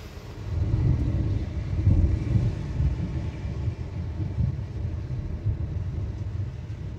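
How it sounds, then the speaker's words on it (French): Low, continuous rumbling that swells and fades, heavy in the bass, like distant thunder rolling on with no voices, during an hour-long thunderstorm with little rain near La Roche de Solutré, France. "Ça fait au moins 1 heure que ça tonne et qu'il y a des éclairs."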